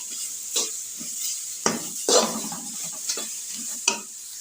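Chana dal mixed with fried karela being stirred and cooked in a pan, with a steady sizzling hiss and several distinct scraping stirs of a spoon against the pan at irregular intervals.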